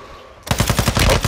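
A sudden burst of rapid automatic gunfire erupts after a brief quiet, with loud, evenly spaced shots cracking in quick succession during a Call of Duty: Modern Warfare II match.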